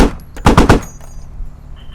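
A machine gun in the military game Squad fires a quick, close, loud burst of about four shots, followed by a fading tail.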